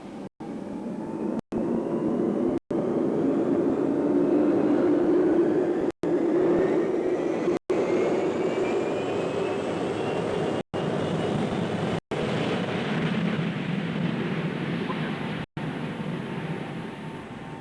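An aircraft takes off from a simulated Ark Royal flight deck in the Earl's Court Arena at the 1987 Royal Tournament: a loud, sustained roar with a slowly rising whine, broken by brief dropouts.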